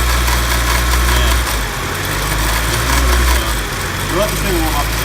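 An SR20DET engine in a Nissan Skyline R32 idles steadily while warming up, a constant low rumble close by with no speech over it.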